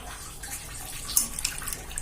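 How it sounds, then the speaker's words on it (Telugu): Dried fish being rinsed in water gives a soft, continuous sloshing and splashing with small drips and swishes, quiet and close, with no talking. "ఈ వాటర్ని కూడా వంపేసి మళ్ళీ ఒకసారి జాడించి కడుక్కుని"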